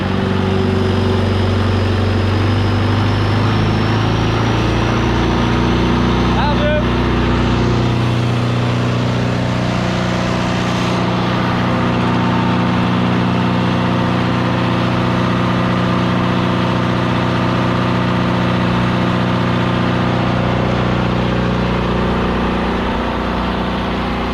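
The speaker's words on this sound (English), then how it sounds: "This motor, just a pump for the other one. Get that on. We gotta rev it up." A motor running an irrigation pump on a corn farm, revved up: a loud, steady, close engine drone with strong layered harmonics that shift slightly in pitch, with no talking over it.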